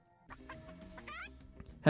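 Cartoonish clucking from a giant chicken character in the Tower of God mobile game, a short run of squawky clucks over game music and effects, ending in a loud burst.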